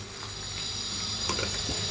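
Water is poured into a hot pan of spiced eggplant and potato for a fish besar curry, a close continuous hissing splash with faint sizzling, with no one speaking.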